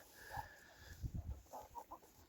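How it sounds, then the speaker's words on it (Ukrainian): Crested hens eat outdoors on a cold day, giving a few soft, close clucks and low murmuring calls with light pecking sounds, alone and fairly faint. "ці тут у нас їдять курочки, чубатурочки"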